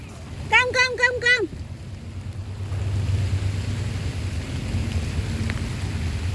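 Sudden heavy rain falls outdoors as a steady, dense wash of noise that builds and holds, following a brief burst of yelping vocal sounds at the start.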